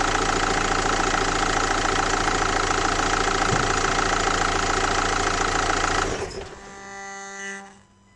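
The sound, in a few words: Renault Master 2.3 dCi diesel engine idling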